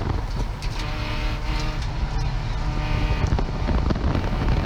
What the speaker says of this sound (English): he's still making upshifts, very fast corner, full power, up the incline, under the bridge, heading to turn 3